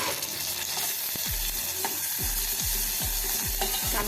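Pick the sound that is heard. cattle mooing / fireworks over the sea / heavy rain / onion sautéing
onion sautéing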